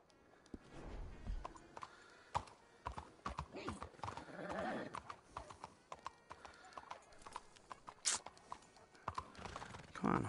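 Horse hooves clip-clop steadily and close by, mixed with a brief whinny and a voice talking over the hoofbeats.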